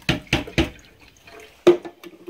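A coffee maker running a cleaning cycle with Alka Seltzer dissolved in the water makes three quick sputtering bursts, a pause, then another gurgling spurt followed by a soft bubbling hum.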